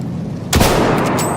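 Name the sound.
K bullets fired at a surface in Battlefield 1 video game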